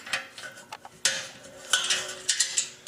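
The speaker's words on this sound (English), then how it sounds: "So what I need to do is use a 1/4 inch wrench on the Phillips" A 1/4 inch wrench turns a Phillips screw on an RV furnace housing, giving short bursts of close metallic ratcheting clicks that start and stop irregularly.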